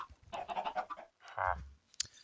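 Video game chicken from a spawn egg clucking in a few short bursts, close and moderately loud, with a brief click near the end and no talk.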